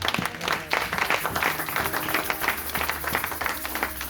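A church congregation applauds and cheers for Jesus, a fairly soft, steady patter of many hands clapping with scattered voices mixed in, sustained for a few seconds.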